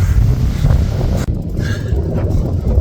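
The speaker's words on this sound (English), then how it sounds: "I don't know if you can hear me, it's windy." Loud, rough wind buffets the microphone in a continuous low rumble, briefly dipping before gusting back up; no one speaks.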